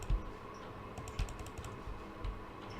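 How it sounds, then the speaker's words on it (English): Soft, sparse keystrokes tap on a computer keyboard at a quiet desk, a few isolated clicks spread across a faint room hum. "oh, I can use the keyboard with Android here"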